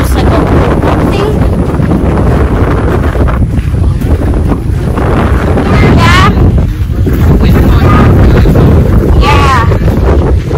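Wind blows outdoors along a trail in early winter, loud buffeting gusts against the microphone throughout, with voices speaking briefly over it.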